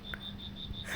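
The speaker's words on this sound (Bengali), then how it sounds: "ব্যাঙের গোঙানি মাঝে মাঝে" A frog croaks a few times near dusk in a quiet rural setting, short soft calls over a faint steady insect whine.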